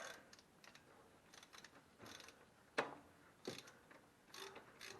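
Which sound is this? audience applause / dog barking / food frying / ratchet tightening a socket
ratchet tightening a socket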